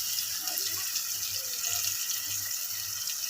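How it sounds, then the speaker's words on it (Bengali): Water poured into a cooking pot of curry, a continuous close hissing splash with faint stirring underneath, steady and alone for a few seconds. "হালকা একটু পানি দিলাম, পানিটা দিয়ে একটু নাড়াচাড়া করে নেব।"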